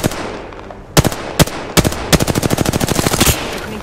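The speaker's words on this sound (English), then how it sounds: "Opening fire." Gunfire in the battle-royale shooter Apex Legends: a few loud, widely spaced single shots, then a rapid automatic burst of evenly spaced close cracks lasting over a second.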